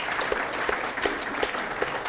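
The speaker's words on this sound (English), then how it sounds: "And round of applause." An audience gives a round of applause for a standing committee at an event, with brisk, dense clapping of moderate loudness and a few sharper individual claps standing out.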